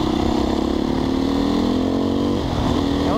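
A Husqvarna 510 SMR motorcycle engine revs hard and climbs steadily in pitch, loud and close, with a brief dip as it shifts gear before pulling up again, a dense, raspy engine roar with no voices.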